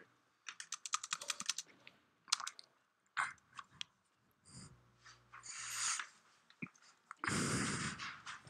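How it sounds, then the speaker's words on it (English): Quick bursts of computer keyboard typing, clicky and close, come in irregular clusters separated by short pauses, with some brief rustling and crunchy noises mixed in, all fairly quiet. "Keyboard noise."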